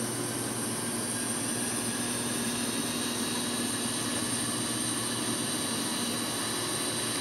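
Airliner engines spooling to takeoff power in Infinite Flight simulator, a constant steady jet roar with a sustained whine, even and unbroken throughout.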